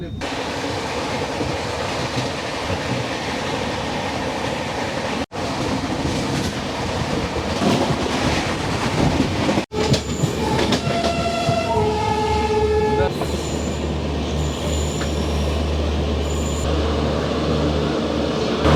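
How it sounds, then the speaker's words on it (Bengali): The Bhopal Shatabdi Express in India, heard as a loud, steady rumble of a running train with wheel clatter, followed by several long horn blasts near the end. "কংসরাজার রাজধানী মথুরা জংশনে ঢুকলো ঠিক 14 মিনিট লেট করে।"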